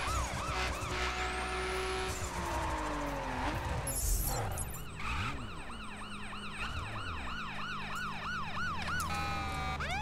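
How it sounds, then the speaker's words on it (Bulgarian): Fire engine siren in the racing video game The Crew: a loud wailing siren rising and falling in rapid repeated sweeps, with engine and traffic noise underneath and a brief skid. "Ще е пожарна."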